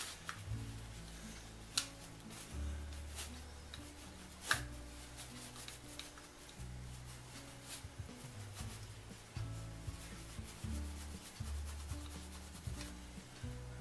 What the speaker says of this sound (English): Now when I put the wax on it,